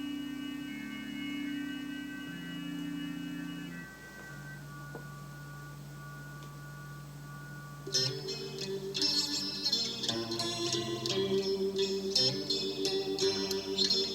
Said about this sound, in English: echoey guitar.